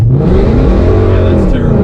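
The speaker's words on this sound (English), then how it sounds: "I'll raise the RPMs a little bit." A supercharged Ford S650 Mustang revs at a drag strip, a loud, steady engine roar held close by with a slight rise near the end.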